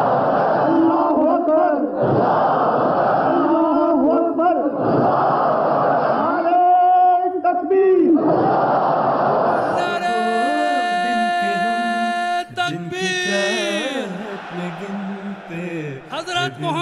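A large crowd at a religious gathering chants the slogan Allahu Akbar in loud, rhythmic call-and-response waves, with a leader's amplified voice between the responses and the roar filling the space.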